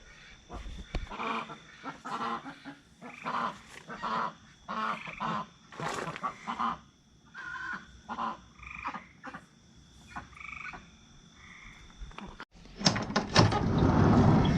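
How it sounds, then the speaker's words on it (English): Repeated nasal honking and quacking calls from a group of waterfowl, coming in irregular bursts close by, ending with a rustling, noisier stretch. "listen to the ducks"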